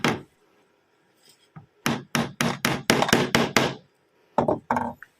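A run of sharp hammer blows on a short nail held in a comb's teeth, a few spaced strikes and then a quick steady series of seven or eight, with a final short pair.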